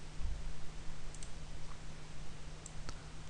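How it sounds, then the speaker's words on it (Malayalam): Computer keyboard typing during a programming tutorial; a few faint, sparse clicks over a quiet hum, close but soft, with no talk. "സാധാരണ നമുക്ക് പ്രിന്റ് ആമിന എന്ന് ടൈപ്പ് ചെയ്ത് ഇത് സേവ് ചെയ്താൽ"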